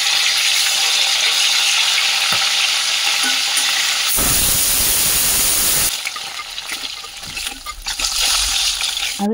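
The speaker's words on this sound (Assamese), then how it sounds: "আৰু এনেদৰে মই গোটেইখিনি মাছ ফ্ৰাই কৰি ল'লোঁ।" Fish rubbed with salt and turmeric fry in hot oil, a loud continuous sizzle and spatter with a brief rushing, watery burst partway through.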